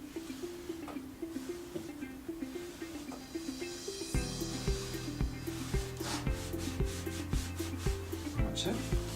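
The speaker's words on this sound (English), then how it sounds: "So all we're going to do is just wipe away the excess." A lint-free cloth wipes excess Owatrol Polytrol oil off a surface in quiet, repeated rubbing strokes, with a low steady hum underneath that thickens partway through.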